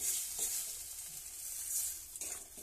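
Mustard and cumin paste sizzles steadily in a hot pan, with a few soft stirring scrapes breaking through the continuous frying hiss; close and fairly loud, no voices.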